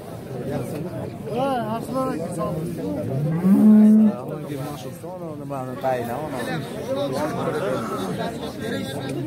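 Cattle moo at a busy livestock market in Nookat, with one clear, drawn-out low moo rising above steady crowd chatter and haggling voices around the animals.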